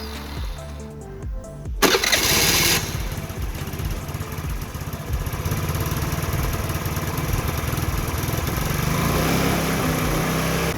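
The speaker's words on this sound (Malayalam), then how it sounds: "ഇനി നമുക്ക് സ്കൂട്ടർ ഒന്ന് സ്റ്റാർട്ട് ചെയ്ത് നോക്കാം." A scooter engine with a newly fitted petrol filter cranks briefly, catches with a loud burst, then settles into a steady, buzzing idle that continues to the end.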